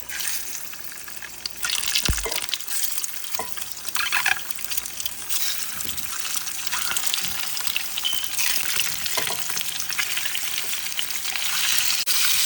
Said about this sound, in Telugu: కొంచెం సాల్ట్, కొంచెం పసుపు. ఇప్పుడు దీంట్లో బాయిల్డ్ ఎగ్స్,